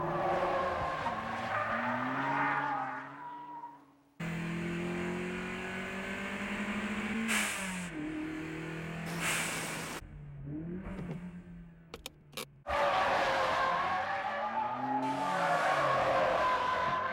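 A car in an anime street race squeals its tires through a corner over a loud, rising engine whine. The screech sweeps in several long passes, cut by brief gaps and sharp clicks.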